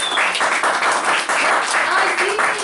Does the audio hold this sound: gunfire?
no